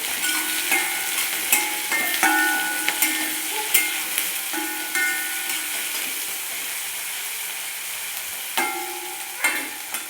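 Fennel seeds and two or three dried red chillies frying in oil for a traditional Kerala-style beef fry, a steady close sizzle with scraping stirs and occasional sharp clinks of a spoon against the pan.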